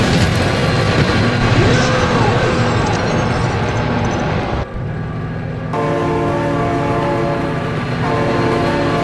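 A train in the video game BeamNG.drive thunders past loudly and close, with a dense, continuous roar of rumbling wheels and wagons, a brief dip partway through, then a steady, tonal horn-like drone.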